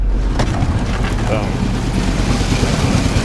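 A Normand hybrid snowblower engine runs steadily at close range, a loud continuous low rumble with wind-like broadband noise, throwing sand rather than snow.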